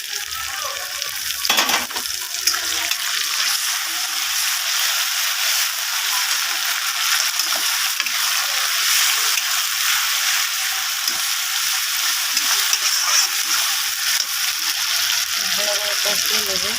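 Ginger, garlic, cumin and chili paste frying with browned onions in a pan for a fish and potato curry, making a loud, dense, continuous sizzle heard up close for a long stretch, with an occasional stir.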